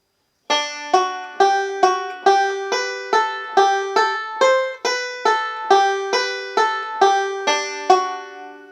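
Steady banjo roll, evenly picked notes cycling in a repeating rolling pattern for several seconds, bright and close, no voices.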